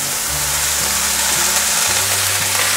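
Cabbage stir-fries in a hot pan with mushrooms, giving a loud, steady, close sizzle under a low humming drone from the stove or range hood.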